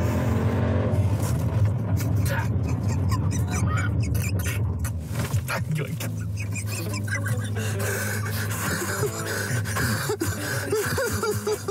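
A Jeep Trackhawk braking hard from 100 km/h to a stop on a track, with loud, continuous engine and road noise and tyre sound throughout, while voices and gasps are heard inside the car.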